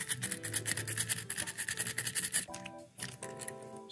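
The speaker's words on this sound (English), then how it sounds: "Just rub it along there as well, just give that a bit of a clean." Close, rhythmic scratching as a part on a Tri-ang Railways R.50 Princess model locomotive is rubbed clean before soldering, quick back-and-forth strokes that pause briefly near the end.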